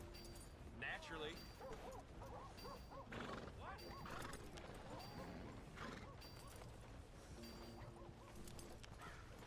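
A horse whinnies and snorts amid steady game ambience with music and someone talking over it, in the Red Dead Redemption 2 video game while hitching and tending the horse.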